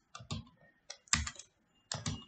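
Code typed on a computer keyboard in a few close, quiet clusters of quick key clicks separated by short silences.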